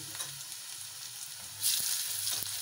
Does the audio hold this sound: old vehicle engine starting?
no